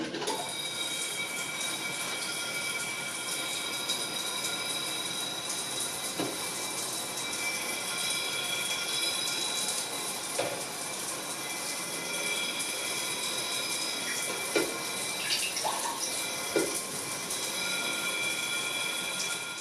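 Water sprays steadily from a Brondell CL150 bidet, a continuous broadband hiss running unbroken throughout with small splashy fluctuations.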